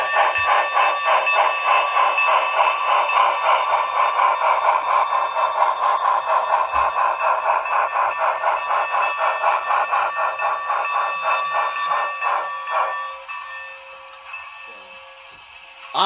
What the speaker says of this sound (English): That whistle steam is spectacular.